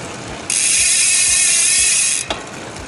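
A bicycle drivetrain spins freely during a lubricant test, its chain and freewheel giving off a steady high ratcheting whir for about two seconds before stopping with a brief click, heard alone and close.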